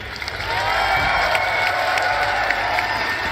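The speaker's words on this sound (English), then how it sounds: "give a big round of applause to Outback" A large crowd applauds and cheers together in a dense, continuous roar of clapping and whoops, loud and steady for a few seconds with no talking.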